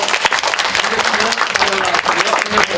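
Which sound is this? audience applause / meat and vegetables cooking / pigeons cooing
audience applause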